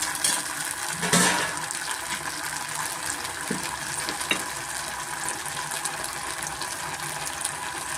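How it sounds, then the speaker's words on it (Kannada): Leftover idli manchurian frying in a pan with tomato sauce and a splash of water, a continuous close hiss and bubbling with occasional scraping clatters of a spoon against the pan. "ಟೊಮೆಟೊ ಸಾಸ್ ಜೊತೆ ಸ್ವಲ್ಪ ನೀರು ಹಾಕ್ಕೊಂಡು ಫ್ರೈ ಮಾಡ್ಕೊತಾ ಇದ್ದೀನಿ"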